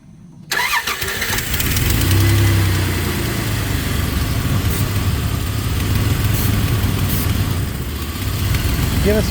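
A 1998 Dodge Dakota engine cranks and fires, then settles into a steady, fairly loud idle that runs on continuously close by.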